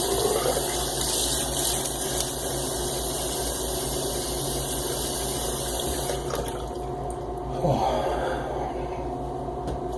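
Running water from a tap wets a head before a shave, a steady close splash and hiss continuing throughout, with brief changes as the flow is disturbed by hands.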